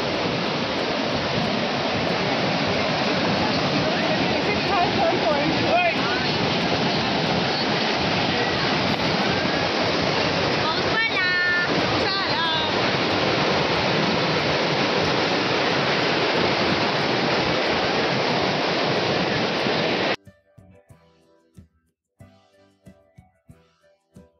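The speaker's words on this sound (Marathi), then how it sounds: "हा धबधबा आम्हाला फायनली दिसला आणि त्याचा आवाज खूप दूरवरून येत होता." Rautwadi waterfall in Kolhapur roars in the monsoon as a loud, steady, unbroken rush of falling water for about twenty seconds, then cuts off to near quiet.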